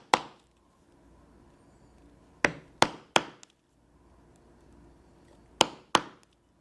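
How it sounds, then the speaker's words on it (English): A 1/8 inch round drive punch is hammered through leather in sharp, close strikes: one, then a quick group of three, then two more, each a crisp knock with short decay against a quiet background. "we will punch these holes"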